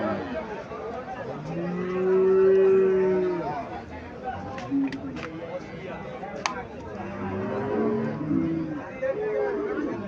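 A Sahiwal cow and a Gir calf at a Comilla cattle market, with a few low moos rising over crowd chatter and nearby talking.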